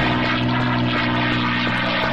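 A propeller airplane engine in a video game drones steadily throughout, a continuous close, loud hum with a low buzzing tone and no speech over it.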